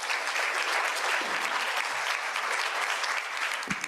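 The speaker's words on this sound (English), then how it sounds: "Round of applause" An audience claps warmly and continuously for a few seconds, a dense, fairly close patter of many hands that thins slightly near the end, with faint voices underneath.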